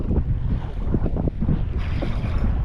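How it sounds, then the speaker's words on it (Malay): Strong wind blows across a small boat at sea during light-tackle fishing. It roars as a loud, steady rush of buffeting noise, with water sounds mixed in. "Kuat geng angin ni."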